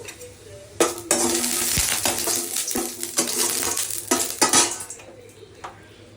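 Bori lentil dumplings fry in a pan until red, with a steady sizzle, broad bursts of frying and repeated clinks and scrapes of a utensil against the pan, close and fairly loud.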